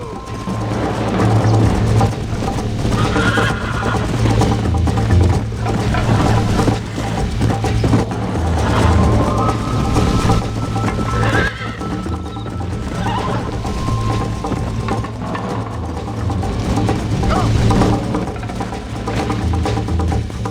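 Horse whinnying and clip-clopping hooves in Red Dead Redemption, with repeated neighs over a continuous dense game soundscape, fairly loud and close.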